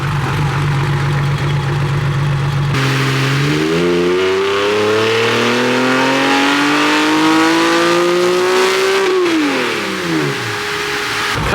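A Nissan Skyline GT-R on a dyno pull, engine climbing steadily from idle through a long rising rev sweep before dropping off sharply, loud and close with no voices.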